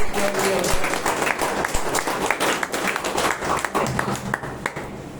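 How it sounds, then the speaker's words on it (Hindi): Loud applause from an audience at a talk, dense clapping filling several seconds, with voices and crowd murmur mixed into it. "एक बार जोरदार ताली बजाइए"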